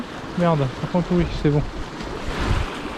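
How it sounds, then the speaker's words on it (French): Strong wind gusts roar steadily across a sea shore during lure fishing, a dense rushing noise that fills the clip while someone speaks briefly near the start. "Il y a un sacré vent, hein."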